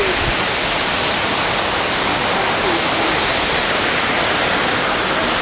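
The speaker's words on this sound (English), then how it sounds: "So this is where you can hear the falls pretty well" A waterfall near Burlington, Vermont roars as a loud, dense, continuous wash of falling water with no breaks, heard close through the trees.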